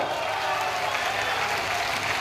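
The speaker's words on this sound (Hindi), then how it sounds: "लोकप्रिय प्रत्याशी बहन सीता सोरेन जी के लिए जोर से ताली बजाओ जरा।" A large crowd at an outdoor political election rally claps loudly and continuously for the candidate, a thick wash of applause with a faint crowd murmur underneath.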